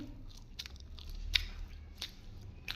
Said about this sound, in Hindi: पता है क्यों ऐसे चबा रहा हूँ